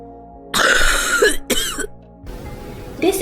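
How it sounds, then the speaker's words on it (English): A productive, phlegmy, chesty cough sounds close up in two harsh wet bursts, followed by a quieter rattling breath and the start of another cough. "This is a productive cough."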